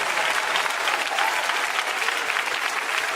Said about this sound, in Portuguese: Mais forte as palmas para Jesus.